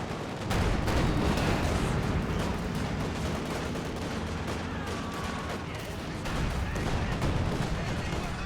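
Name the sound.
gunfire in Company of Heroes 2 video game battle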